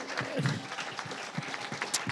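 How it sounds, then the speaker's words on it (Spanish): Faint audience applause at a public talk, a light, scattered patter of hands heard from a distance, with some voices mixed in. "Y la ciudad de Tortosa también os da un aplauso desde aquí"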